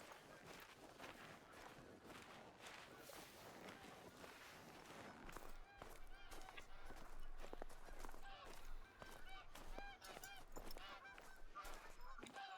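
Snow geese honk in theHunter: Call of the Wild, a dense flock calling repeatedly at a distance on a high-altitude ridge, mixed with game footstep sounds and a faint voice.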